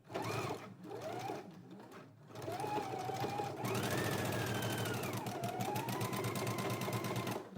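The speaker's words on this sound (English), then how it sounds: "Let's go ahead and stitch it and then secure the opening closed." A sewing machine stitches shut the waistband opening on a pair of pants, running in a steady, close whir for several seconds with a short pause near the start.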